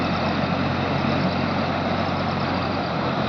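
Tractor engine crossing an overflowing stream near the Anupalli Anjaneyaswamy temple in Aluru, a constant heavy diesel drone with rushing water noise blended in, close and loud without talk.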